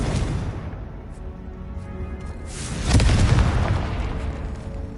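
A Confringo blasting spell in Hogwarts Legacy goes off as a deep booming explosion midway, swelling over a low rumbling game ambience with a few faint clicks beforehand and no talk.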